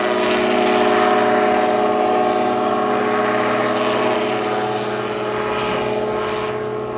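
A scale model aircraft makes a loud, steady engine drone as it comes back for a flyby, holding a constant pitch close by for the whole stretch with no talking.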